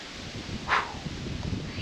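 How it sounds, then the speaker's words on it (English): Wind blowing outdoors in the desert near a beach and waterhole, a steady broadband rush with a brief gust swelling in the middle, close to the microphone and moderately faint. "This wind's picked up a bit."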